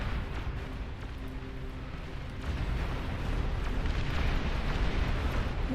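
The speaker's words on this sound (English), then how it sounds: "Long-range plasma cannon targeting your units." Long-range plasma cannon artillery fire in the Beyond All Reason strategy game, a continuous rumbling barrage of blasts that swells louder midway and keeps churning to the end.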